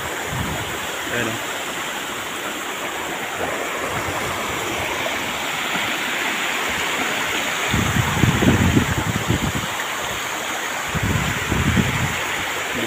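The waterfall at Sulop, Davao del Sur roars as a steady broadband rush of falling water close by, with someone speaking briefly over it and heavier low splashing surges near the end.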